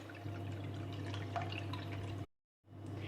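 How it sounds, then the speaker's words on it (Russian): Water is poured over meatballs in a pan with bay leaf to make gravy, giving a steady splashing pour over a constant low hum that breaks off briefly near the end. "Через пару минут добавляю лавровый лист и заливаю все это дело водой."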